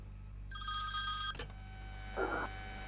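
Electronic telephone ring inside the Ring Ring phone horror game, a single bright tonal burst sounding alone and fairly close, followed by a short click and a brief softer tone.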